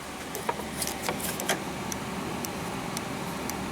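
A Volkswagen EVAP purge solenoid valve clicks faintly and irregularly, a few sharp ticks over a constant rushing hiss of air being blown through it.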